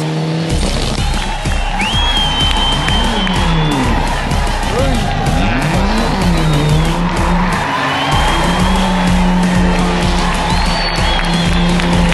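A Mitsubishi rally car at a rally event slides through the final curve with squealing tires and a roaring engine, while a crowd applauds and cheers nearby and a commentator talks over the scene.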